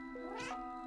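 A single short cat meow from the video game Stray rises and falls once over a steady electronic hum, close and clear with no talking.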